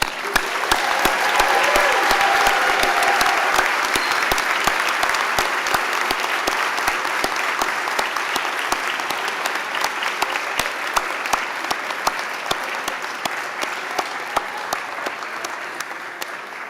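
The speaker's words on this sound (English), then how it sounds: "Let's give these graduates another round of applause." An audience at a physical therapy hooding ceremony gives graduates sustained applause, a dense, even wash of clapping from a large room that continues steadily and slowly thins toward the end.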